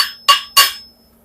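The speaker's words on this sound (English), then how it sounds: "Now you just take a hammer and" Two sharp metallic hammer taps about a third of a second apart on ground-down welded steel parts, each ringing briefly before fading, with a faint steady hum behind.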